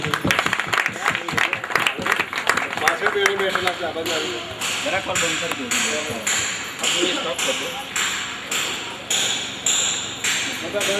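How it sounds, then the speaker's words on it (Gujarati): Audience at a temple consecration festival claps in a loud, uneven burst, thinning into rhythmic clapping with bell-like rings while voices carry underneath. "દરેક તાળીઓના ગણનાથી નિલેશ બાપુને વધાવી લે"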